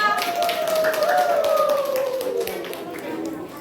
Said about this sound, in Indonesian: Tepuk tangan untuk Arya.